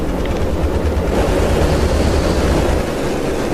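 Mongoose racing quad engines roar loudly during a race in a steady, dense wash of noise, with no speech.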